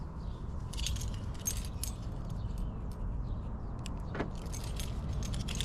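Keys jangling while a car is unlocked, several bright metallic rattling bursts close by over a steady low background hum, with a short unlock chirp near the end.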